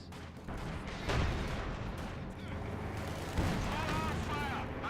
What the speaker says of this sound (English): she's taking shots off in the distance, trying to pick off some infantry